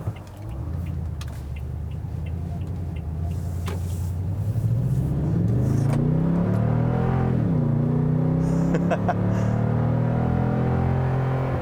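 A Toyota Tundra TRD Pro V8 pickup accelerates hard, its engine note climbing steadily in pitch and loudness as it pulls through the gears, with a brief dip at a shift before rising again; loud and close, no talking.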